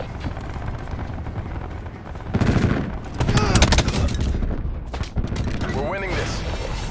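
Gunfire in the Call of Duty Black Ops 4 video game: loud, dense bursts of automatic fire and booms in close succession, with game voice callouts over the shooting.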